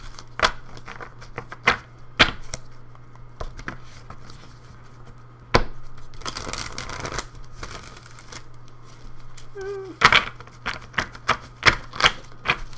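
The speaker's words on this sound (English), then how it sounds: "I'm shuffling these cards." Personality cards being shuffled by hand at close range in a quiet room, with scattered sharp riffling snaps and soft shuffling rustles spread irregularly over a faint steady hum.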